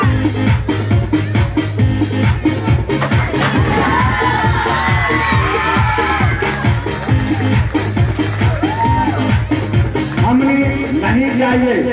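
Crowd noise and cheering with excited children's shouts fill a children's patriotic stage play honoring soldiers before Republic Day, a steady loud roar of voices with whoops throughout and no clear clapping rhythm.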